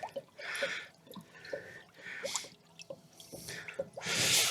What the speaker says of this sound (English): Let's have a squeeze of the pipes. Oh, there she goes. Oh, she's glugging.